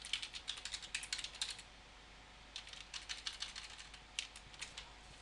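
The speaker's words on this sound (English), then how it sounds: "I'll only type in a couple for this example because there's no point you watching me type in all" Quiet, close typing on a computer keyboard as quiz questions are entered, quick runs of light key clicks broken by a pause partway through, over faint background hiss.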